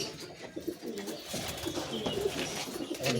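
Pigeons cooing in a loft, including pouter-type and tippler flying pigeons, a steady mix of low throaty coos with nearby birds and some background voices.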